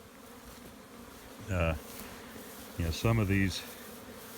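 Honey bees flying in and out of a hive entrance on a spring day as foragers bring in pollen, making a soft continuous buzz with a couple of brief spoken phrases over it.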